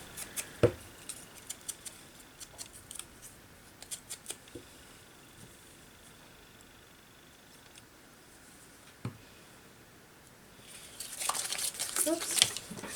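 Scissors snip vintage paper tickets in a few short, sparse cuts spread across the stretch, with a louder burst of paper crinkling and handling near the end; no one speaks.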